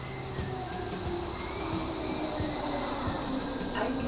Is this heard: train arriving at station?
yes